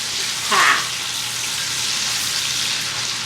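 Bacon fries in a pan, a steady dense sizzle running throughout with a brief louder crackle near the start, heard close and without talk.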